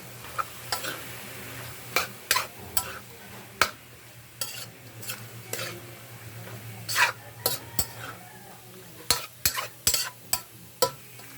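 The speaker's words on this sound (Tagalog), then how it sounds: "Pepper, pampawala ng amoy. I-mix lang natin." Pepper being stirred into frying pork for a Filipino bam-i dish, sharp spoon-on-pan scrapes and clacks at irregular intervals over a faint steady sizzle, close by and without talk.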